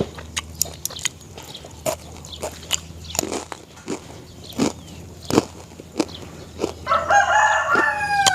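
Scattered clicks, taps and soft rustles lead into a rooster's crow near the end, fairly clear and at moderate distance outdoors in a rural setting.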